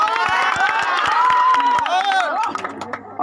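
An audience at a Bhojpuri stage show bursts into loud clapping and cheering, a dense continuous roar of applause and shouts that fades after a few seconds.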